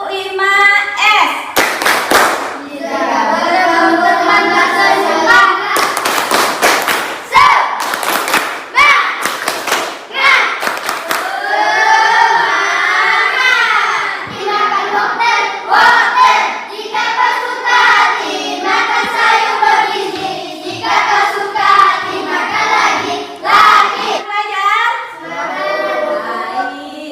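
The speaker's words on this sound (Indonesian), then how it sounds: "Sekarang kita tepuk 5S." Indonesian schoolchildren perform the tepuk 5S clap, loud sharp hand claps in rhythmic bursts mixed with children chanting in unison throughout.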